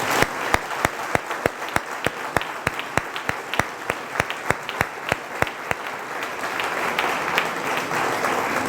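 Audience applause at a magazine presentation event, a steady run of sharp, evenly spaced claps that thickens into broader, fuller clapping toward the end, moderately loud and without voices.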